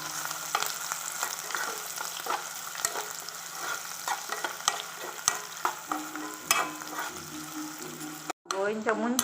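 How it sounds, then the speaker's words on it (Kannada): Onion, curry leaves and ginger fry together in hot oil with a steady close sizzle, broken by repeated scraping and stirring clicks of a spoon against the pan and a short clatter near the end. "ಈರುಳ್ಳಿ ಅಂಚನೆ ಒಗ್ಗರಣೆ ಸೊಪ್ಪುಲ ಶುಂಠಿ ಏನು ಮಾತ ಒಟ್ಟಿಗೆ ಪಾಡೊಂದು ಒಂತ ಫ್ರೈ ಮಂತೊಂಗ"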